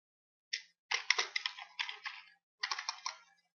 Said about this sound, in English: that's the problem with typing and talking at the same time